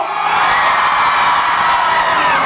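A concert crowd of women screams and cheers at a serenade event, a dense, loud, high-pitched wall of shouting and whooping that holds steady throughout with no pause.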